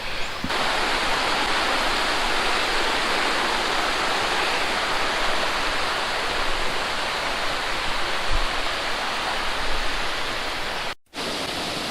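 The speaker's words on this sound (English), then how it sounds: "Here we are at the uppermost falls." Waterfall at the uppermost falls along the Sweet Creek Falls trail, a loud, steady broadband rush of falling water that fills the whole clip, heard close and alone, with a brief dropout near the end.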